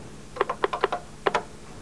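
Keystrokes on a computer keyboard as a shell command is typed, a quick cluster of five or six clicks followed by a short pair, close and clear over quiet room hiss.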